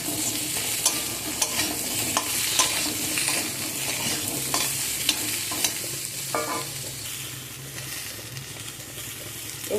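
Potatoes sizzle steadily in hot oil, with repeated scraping and clatter as they are stirred around the pan. Close and continuous, with no talking.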